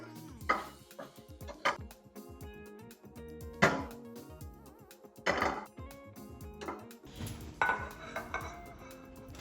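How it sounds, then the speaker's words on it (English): Metal utensil stirring cherry tomatoes in a skillet, scraping and knocking against the pan in irregular bursts with clinks and pauses, close and clear with no talk. "Stir consistently so that they will not stick to the pan"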